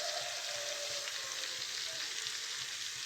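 Rice frying in melted butter in a pot for pilaf, a soft, even sizzle and crackle held steady and fairly quiet throughout, close up with no talking.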